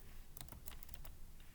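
Quick, light keystrokes on a computer keyboard, a short burst of several close clicks in an uneven rhythm, faint and with no speech.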